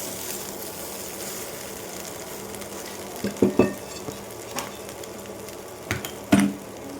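Palak methi muthiya, spinach and fenugreek dumplings, frying in a pan until crisp: a soft, steady sizzle close by, broken by a few sharp clinks and scrapes of a utensil against the pan.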